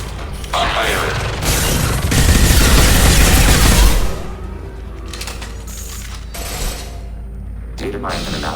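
Gunfire and mechanical weapon clatter from the video game Mass Effect 2 during Legion's loyalty mission, a loud dense burst in the first half, then quieter intermittent clicks and shots.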